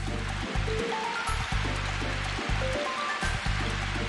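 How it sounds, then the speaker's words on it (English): Waterfall at the Sabatico Falls in the Arc the Lad video game, a steady rushing water stream continuing throughout with faint looping game sounds layered over it. "Well, the waterfall's still running a little bit."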